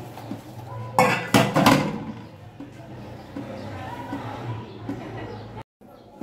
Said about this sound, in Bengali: এখন আমি থালাবাটি ধুয়ে ফেলবো